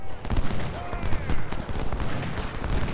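Artillery and cannon fire in Ultimate General: Civil War, a Union battle at Crampton's Gap, booms in rapid, overlapping volleys, with dense repeated thuds and crackling shots under a voice giving orders.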